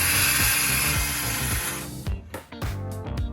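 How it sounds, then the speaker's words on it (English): A circular saw guided along a clamped straight edge making a first cut through a desk board, whining loudly and steadily, then cutting out and restarting in short bursts near the end. "then I went ahead and used my circular saw so that I can make my first cut"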